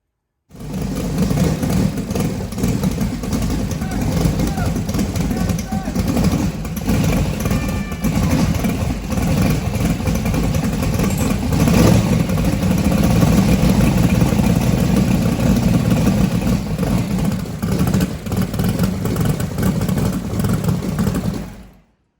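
A drag car engine runs steadily after being started, a loud, rough idle with a heavy low rumble that holds without pause for about twenty seconds and cuts off at the end.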